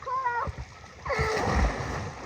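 Water splashes and sloshes loudly nearby as people talk over it, a short churning burst.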